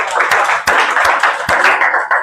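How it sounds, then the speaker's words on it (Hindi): Audience applause at an environmental awareness talk on pollution and climate change, a brief burst of dense, close hand clapping with a few sharper individual claps standing out, no speech. "हाँ, तालियां बजाओ भाई इनके लिए।"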